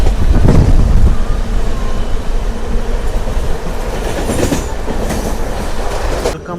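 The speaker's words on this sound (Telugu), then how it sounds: "అసలు ప్లాట్ఫామ్ మీద ఏమన్నా లాగుతుంది చూడండి మెమో ట్రైన్ కూడా" A MEMU passenger train runs steadily along the rails with a loud, continuous rumble and clatter, heard from on board or close by, with a heavier burst near the start.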